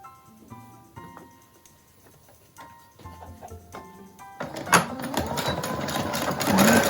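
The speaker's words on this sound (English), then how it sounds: "we are going to sew 1/2 inch in across the top and 1/2 inch across the bottom" A sewing machine stitches fabric for a mask in short bursts of mechanical ticking, then runs into a louder continuous whirring hum near the end, close by and with no talking.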